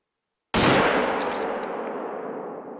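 A single loud rifle shot fired at an elk in a hunting video game, a sharp sudden crack out of silence followed by a long fading rumble.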